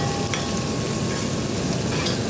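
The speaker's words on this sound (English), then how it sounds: "Need to saute nicely." Sliced onions and curry leaves sauté for Sri Lankan chicken curry, giving a dense, steady frying hiss close up, with a faint clink of a utensil near the start and no talk.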